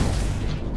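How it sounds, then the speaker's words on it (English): A video game explosion booms loud and close, a dense low rumble that fills the whole moment and fades slightly toward the end. "there was an explosion right where I was"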